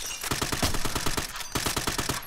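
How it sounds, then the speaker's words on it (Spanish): Automatic gunfire in Call of Duty: Modern Warfare, steady rhythmic bursts of close, sharp shots with a short pause midway, no voices over them. "Le están disparando, creo que de ahí arriba."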